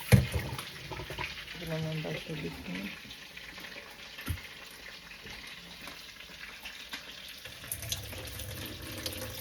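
Tap water running into a kitchen sink while food is rinsed for a rice and peas and fried snapper dinner, a steady low splash under occasional speech and handling clatter.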